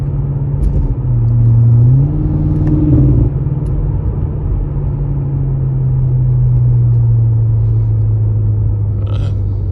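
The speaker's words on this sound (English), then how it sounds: "Y'all hear it. That motor talking." BMW M5 Competition engine heard from inside the car on back roads, a loud low rumble that rises in pitch as it revs then settles into a steady drone, with no talk.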